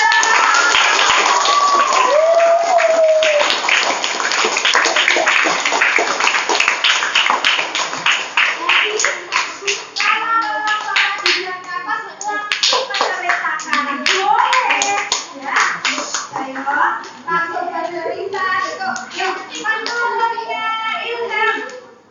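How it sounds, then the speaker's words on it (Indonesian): Schoolchildren in a classroom clap their hands together in a long, dense burst of applause, loud and close, with children's voices and chatter mixing in as the clapping thins out. "Oke, beri tepuk tangan dulu."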